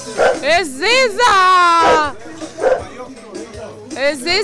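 A dog barks and yips in short bursts at a lively New Year's Eve gathering in an Albanian venue, with people talking and calling out over it.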